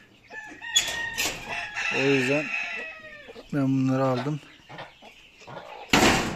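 Chickens cluck and a rooster crows nearby on a farm, with short calls and two longer crows, while someone talks between them.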